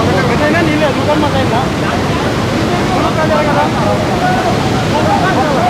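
Water rushes out of the opened gates of Chagallu dam in a loud, continuous roar that stays steady throughout, with faint voices talking beneath it.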